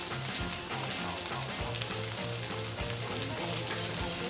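Cooked rice is stir-fried in a pan to make Thai fried rice. The sizzle is continuous and steady, close up, with faint stirring and a low rhythmic hum underneath, and nobody speaks.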